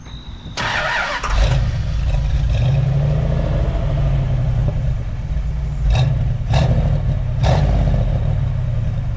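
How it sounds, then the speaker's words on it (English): A 1989 Dodge Ramcharger cranks and fires, then settles into a steady, loud, low exhaust rumble close by, with a few short throttle blips breaking the idle. "this is a startup video so you can hear the exhaust"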